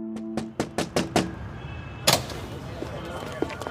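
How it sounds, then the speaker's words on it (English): Knocks land on an office door in a quick run of five sharp raps, then a louder thud and faint room noise. "He tells his friends to follow him as he walks up to the door and knocks."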